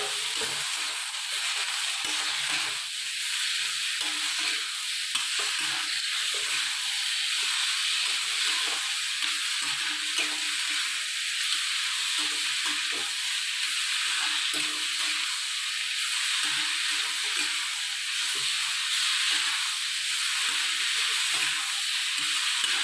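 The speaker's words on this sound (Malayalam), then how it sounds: "ഉരുളക്കിഴങ്ങ് തക്കാളി എടുത്ത് വെച്ചിട്ട് അതും കൂടെ എല്ലാം കൂടെ ഒന്ന് ഇട്ട് വഴറ്റുക" Potatoes and tomatoes sauté in a pan, a constant loud hiss and sizzle that never lets up, with faint stirring scrapes underneath and no voices.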